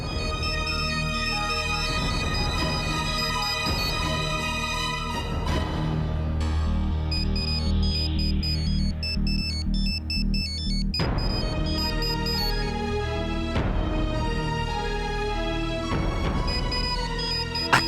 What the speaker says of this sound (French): Ashna, il y a ton téléphone qui sonne.